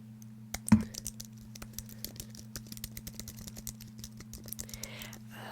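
Sporadic clicks of typing on a computer keyboard, fairly close and quiet, with soft uneven keystrokes over a steady low hum.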